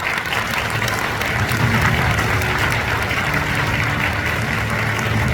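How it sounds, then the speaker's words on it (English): An audience at a peace conference anniversary ceremony applauds a commemorative message with dense, steady clapping from a large crowd that fills the room at even loudness throughout. "let us give a big round of applause to Director Chung Young-min for his commemorative message"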